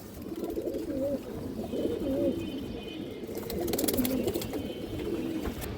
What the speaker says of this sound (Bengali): ফুল পাথর চোখের কবুতর